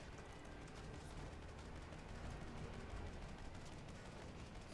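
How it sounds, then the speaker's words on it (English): Blackrock mortar shells burst in a World of Warcraft fight as a dense, continuous rumble of rapid explosive crackle and booming impacts that stays loud and unbroken throughout. "Black rock mortar shells"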